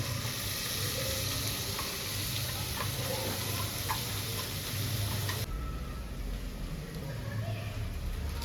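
Coconut masala paste fries in a pot on a wood stove, a steady close sizzle with occasional stirring ticks and scrapes, while a voice speaks faintly underneath.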